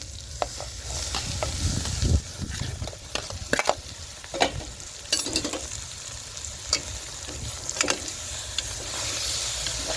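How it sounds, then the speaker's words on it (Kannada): Onion frying in a pan for a sprouted horse gram curry, with a continuous close sizzle and repeated clinks and scrapes of a spoon stirring, moderately loud. "ಈ ಈರುಳ್ಳಿ ಫ್ರೈ ಆಗಿದೆ"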